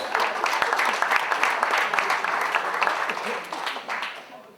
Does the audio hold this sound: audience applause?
yes